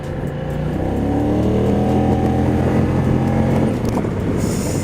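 A Kymco CV3 scooter engine revs hard and close, its pitch climbing in repeated sweeps as the throttle opens, loud and continuous.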